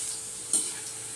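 Okra (ladies finger) sizzles in hot oil with chilli powder as a spoon stirs it in a pan, a close bright frying hiss with one quick scrape of the stirring.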